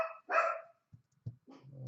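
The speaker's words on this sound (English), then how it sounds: "Dogs are barking." Neighbours' dogs bark nearby in a few scattered, fairly faint outbursts with short gaps between them, heard indoors.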